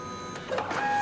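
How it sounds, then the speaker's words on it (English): A MakiBox A6 3D printer works on its first print, its stepper motors whining in steady tones that shift pitch as the head moves, close and moderately loud. "Now I'll just let this print run until it's finished."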